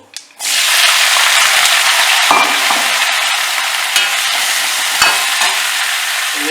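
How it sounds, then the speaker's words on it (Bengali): Winter vegetables (tender drumstick stems, aubergine, flat beans, potatoes) stir-fried with salt in oil tempered with black cumin, giving a loud, steady broadband sizzle with occasional scraping stirs, close up and without speech. "নুন দিয়ে হালকা আমি কষিয়ে নেব"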